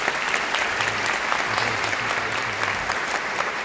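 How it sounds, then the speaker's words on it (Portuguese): Steady, dense applause from an audience at a doctors' oath ceremony in the Convento de São Francisco in Coimbra. It is loud and continuous throughout. "Uma grande salva de palmas para eles também, por favor."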